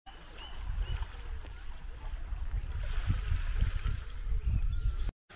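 Waves splashing against the shore at sunset, heard from an off-grid campervan parked beside the water: a steady, fairly close wash of irregular low splashes that continues throughout with no voices.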